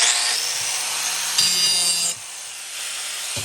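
An angle grinder works along the back edge of a sharpened Scag mower blade to knock off burrs, giving a loud, steady abrasive whine with brief pauses and shifts as the tool is repositioned.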